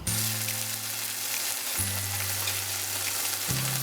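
Steady loud sizzling of spinach paste frying in a hot pan, with a low hum beneath, continuous throughout without voices.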